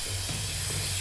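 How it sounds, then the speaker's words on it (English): Spray painting in the video game Infamous Second Son: a steady, hissing spray of paint from a can, fairly close, with a low hum beneath and no talking. "Just spray paint all of the gaps."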